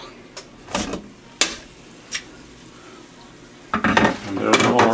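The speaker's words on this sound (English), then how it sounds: "Safety interlock is dropped away. And the lid opens." A pressure cooker lid is opened after its safety interlock drops: sharp metallic clanks and clicks in short bursts, then a rising hiss and rattle of the pot. No speech is heard.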